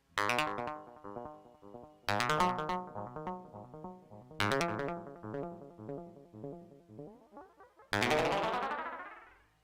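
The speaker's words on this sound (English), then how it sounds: "you probably heard the pitch as we changed the delay" Repeating echoes from a Morphor Echo analog bucket-brigade (BBD) delay sweep in pitch as the delay time changes, bending upward and downward, ending in a dense rising smear of repeats.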